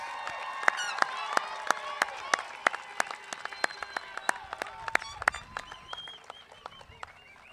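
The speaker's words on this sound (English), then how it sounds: "One more round of applause for our graduating class." A small graduation ceremony audience claps for the graduating class, with sparse, distinct claps ringing out near the microphone over lighter background applause and some voices.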